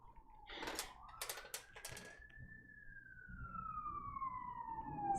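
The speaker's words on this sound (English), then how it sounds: "Siren." A siren wails outside, a long faint tone rising then slowly falling in the distance, heard under nearby tapping and clattering indoors.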